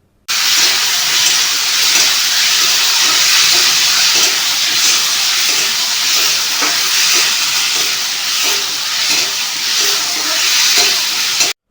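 Ground spice paste fries in hot oil for a jackfruit seed curry, giving a steady, loud hiss and sizzle that runs unbroken for the whole stretch, with faint scraping of stirring now and then.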